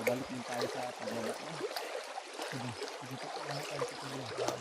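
A clear river flows in a steady broadband rush with a trickling texture throughout, and someone talks in low, rhythmic speech over it.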